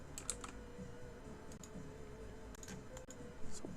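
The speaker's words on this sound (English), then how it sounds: "I like my clicky keyboard" Clicky mechanical computer keyboard typed in steady bursts of sharp keystrokes, close and fairly quiet, with a low hum and room noise underneath.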